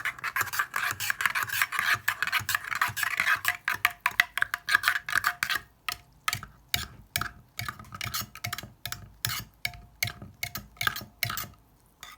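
Rapid scraping clicks of a spoon stirring coffee and cold water in a small metal Turkish coffee pot, continuous at first, then breaking into quicker separate strokes.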